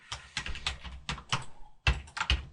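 Fingers type on a computer keyboard while entering an Oracle 11g SQL query: quick, close, clicky keystrokes in uneven clusters with brief pauses between them.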